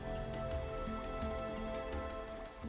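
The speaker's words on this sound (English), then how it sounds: "Ideally, the storm's rain would put out the fire before it reached Cherimoya" Rain pours steadily during a storm, a continuous close hiss of drops on the ground that stays even in loudness throughout.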